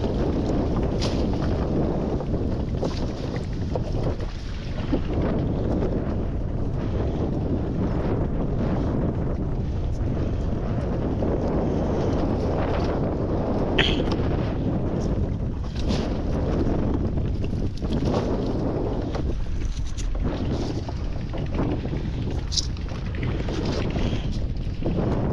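Strong storm wind roars steadily into an outdoor microphone near water, a continuous loud buffeting rush with occasional gusts and knocks, with no voices.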